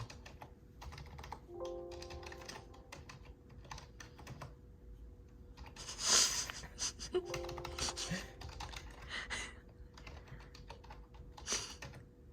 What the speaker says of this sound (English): So we're going to use the mouse or the keyboard.